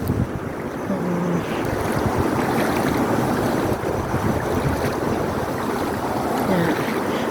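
Ocean waves at high tide wash steadily along a clean beach at Costa del Mar, a constant loud roar mixed with wind buffeting the microphone.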